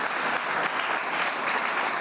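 Audience applause at a youth development program inauguration held at a higher secondary school in Odisha, sustained dense clapping with a few sharper individual claps standing out.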